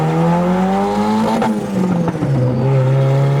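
A Porsche 911 Turbo engine revs hard and holds high RPM, its steady loud drone climbing and dipping slightly with a brief throttle blip in the middle, close and continuous with no talking.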